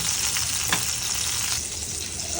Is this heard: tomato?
yes